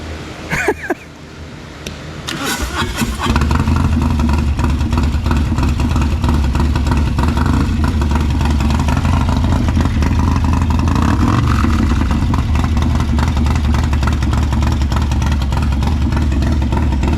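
A Harley-Davidson Road Glide with a 124ci engine fires up for the first time after a brief crank and settles into a loud, steady, throbbing idle close by.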